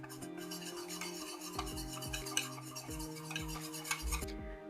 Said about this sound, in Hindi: अब इसमें डाल देंगे कॉर्नफ्लोर। अच्छी तरह मिक्स कर लेंगे।